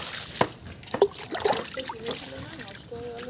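Water pours and trickles from a container onto a potted plant on a rooftop, with soft splashes and drips under talking voices nearby.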